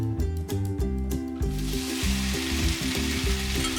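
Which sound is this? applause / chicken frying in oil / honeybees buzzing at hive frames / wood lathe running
chicken frying in oil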